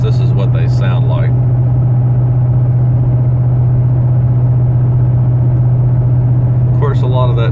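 Constant loud low drone and roar of a vehicle cruising at speed, road and exhaust noise blending together, with brief speech at the start and end.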